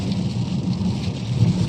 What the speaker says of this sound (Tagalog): Ayun na, medyo maulan-ulan.